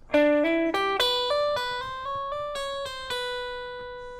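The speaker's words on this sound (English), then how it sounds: "Altogether, the lick so far, and the first portion of our lick, is going to sound like this." An electric guitar plays a chromatic hybrid lick with pull-offs: a clean run of about a dozen quick, clearly picked notes climbing in small steps, then held notes ringing out alone.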